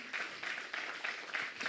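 A church congregation claps in rhythmic, steady bursts, the sound fairly close and filling a large room.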